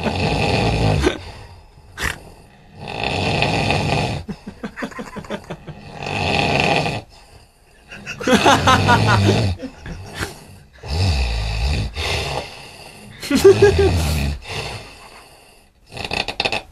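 A person's snoring, played back from a recording, comes as loud, rough, rasping breaths, around seven of them in a slow regular rhythm with short quiet gaps between.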